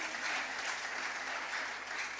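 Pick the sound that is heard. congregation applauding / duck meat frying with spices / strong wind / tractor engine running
congregation applauding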